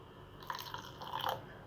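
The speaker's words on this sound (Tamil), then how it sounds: "இன்னுமே கொஞ்சம் தண்ணி விட்டுக்கலாம்." Water poured into cassava dosa batter gives faint, soft splashing and liquid trickling that builds briefly in the second half, close by and quiet.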